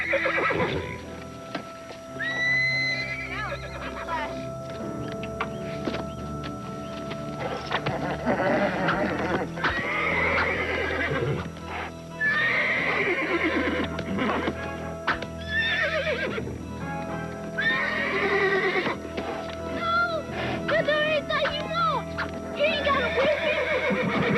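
A horse whinnies and neighs repeatedly, with hoof clip-clops nearby and people talking over the animal throughout.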